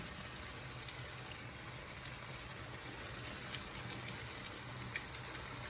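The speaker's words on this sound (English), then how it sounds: "our hash browns one by one." Hash browns frying in olive oil in a frying pan give a faint, steady crackling sizzle with scattered sharper pops, close and continuous with no talk.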